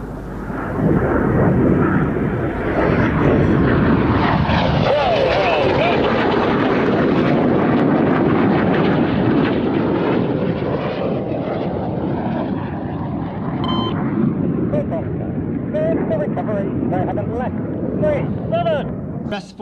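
Red Arrows jets roar overhead in an aerobatic flypast at the Midlands Air Festival 2023, a loud, sustained broadband rush that swells and slowly fades, with crowd noise and an announcer's voice mixed underneath.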